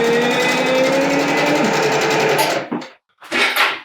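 A sewing machine runs steadily at speed stitching patchwork curtains made from t-shirts, a loud continuous whirring drone that cuts off near the end before a short final burst of stitching.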